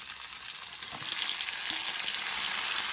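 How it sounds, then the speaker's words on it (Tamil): Tomato, tamarind and salt sautéing together in a pan, giving a steady, close hiss of sizzling oil that grows slightly louder, with faint scrapes of stirring and no voices. "இப்போ தக்காளி புளி உப்பு எல்லாமே ஒன்றா போட்டு வணக்கி எடுத்துக்கலாம்"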